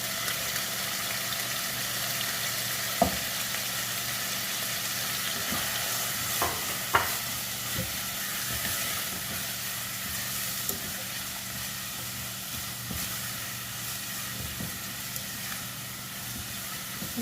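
Onions frying in a pan for a simple cheese pasta make a continuous sizzle with occasional small clicks and taps, likely from stirring or utensil contact, holding at a steady moderate level throughout. No one speaks.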